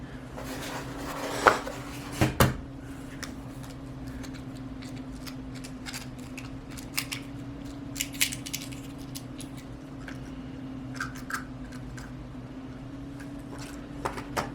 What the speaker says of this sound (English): We're going to crack 7 eggs, so let's go ahead and do that.